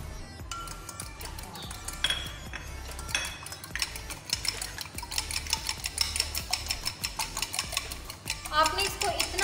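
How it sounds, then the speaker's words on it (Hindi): Eggs and melted butter beaten together in a bowl for an eggless-oven cake batter, a steady run of quick clinking whisk strokes against the bowl, close and fairly loud, with a voice talking in the background. "आपने इसको इतना बीट करना है कि अंडे की जो है वो झाग ऊपर आ जाए।"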